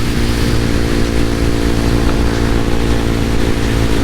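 A motorcycle engine drones steadily and loudly while riding on a cold day, with constant wind rush mixed in for the whole few seconds and no speech.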